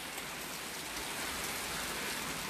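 Rain pouring steadily outdoors at night, an even, full hiss of drops striking surfaces throughout, loud and alone without talk.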